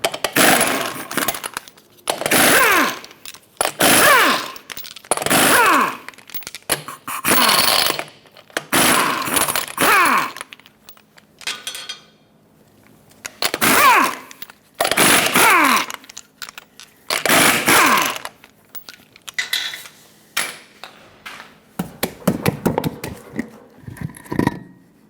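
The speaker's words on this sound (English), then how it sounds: "Use a 21mm socket, remove all 8 lug nuts, and then pull the wheel off." Lug nuts removed from a Ford Excursion wheel with a 21mm socket, loud bursts of rapid mechanical ratcheting and buzzing, repeated in separate runs for each of eight nuts with short gaps between.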